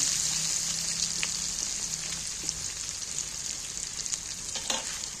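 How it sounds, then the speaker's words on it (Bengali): Potatoes frying in hot oil for a jackfruit curry with goat fat, giving a steady sizzling hiss with occasional pops and stirring scrapes, close and continuous with no talk. "এইবার আমি তেলের মধ্যে ভালো করে মেরে চড়ে আলুগুলোকে একবার লাল লাল করে ভেজে নেব"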